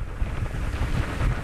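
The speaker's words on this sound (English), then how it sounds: "The wind has really picked up." Strong hurricane wind gusts roar and buffet the microphone on the coast, a loud, rough, continuous low rushing with uneven surges.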